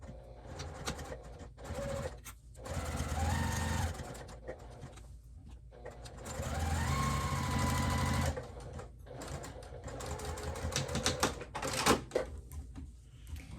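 A sewing machine top stitches along the edge of a flannel burp cloth in two steady whirring runs, with pauses and faint handling noises between them.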